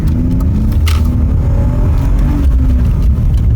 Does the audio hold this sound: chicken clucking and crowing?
no